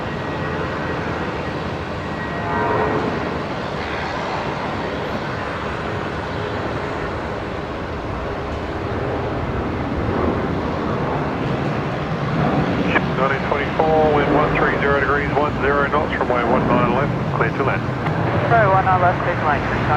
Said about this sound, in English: There goes the Jetstar A320 off of runway 19 left